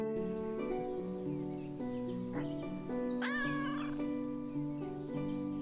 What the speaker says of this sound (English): Oh, there's a cat over there.